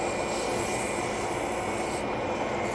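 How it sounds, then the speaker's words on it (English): Continuous rasping friction of 240-grit sandpaper against a wooden spatula spinning on a lathe, an even, unbroken abrasive hiss with a motor hum beneath it. "this is how long you ought to be sanding"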